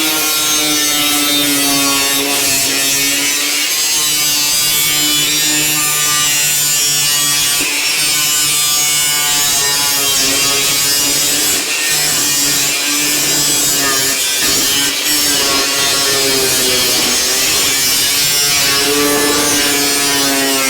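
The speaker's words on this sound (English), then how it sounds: "we're just going to use this grinder and just follow the line" An angle grinder fitted with a thin wafer cutting wheel slices steel along a marked line, a loud, steady high whine running without pause, with brief dips where the wheel bites and eases.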